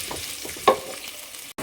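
Onion sautéing in a pan for ginataang sitaw at kalabasa with shrimp, a steady close sizzle with a brief louder hiss of stirring partway through, cutting off abruptly near the end.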